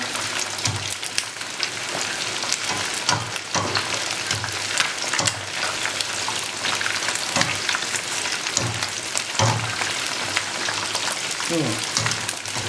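Garlic sausage sizzles steadily while deep-frying in hot oil, with a dense crackling hiss and occasional louder pops and stirring knocks, fairly close.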